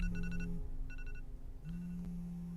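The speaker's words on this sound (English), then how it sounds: "You set that alarm last night." A wake-up alarm rings in repeated bursts, a steady electronic tone overlaid with rapid pulsing chirps, fairly close, with short pauses between bursts.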